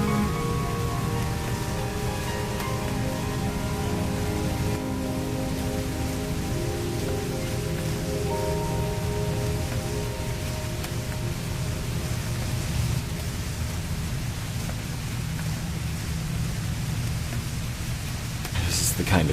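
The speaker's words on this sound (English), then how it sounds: "This is the kind of tree I'd imagine Dashie would hide under in this rain" Steady rain pours down continuously outdoors, a dense, even hiss of drops on surfaces with a low rumbling undertone, while soft music plays beneath it throughout.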